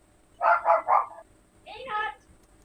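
Dogs bark three times in a quick rhythm, followed by a higher yelp or whine, heard at moderate distance indoors against a quiet background.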